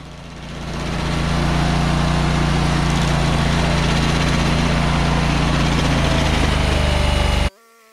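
A Barreto SG30 stump grinder's engine runs at a loud, steady drone, building over the first second, holding constant, then cutting off abruptly just before the end.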